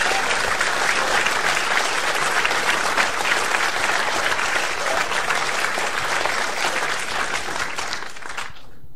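A festival crowd applauds jazz guitar musicians at Avoriaz, loud and sustained clapping that fills the space evenly before cutting off at the end.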